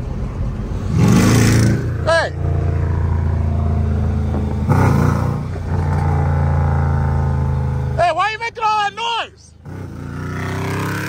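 A car's aftermarket exhaust revs loudly on a street on the 4th of July, giving two strong bursts over a rumbling idle while people talk and shout nearby.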